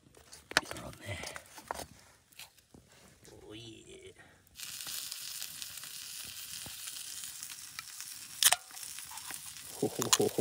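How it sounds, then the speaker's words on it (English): Steady sizzling and spitting of steak frying in a small titanium pan outdoors, joined by clattering and rustling, with a sharp crackle near the end. "I'll get a steak on. A little titanium frying pan."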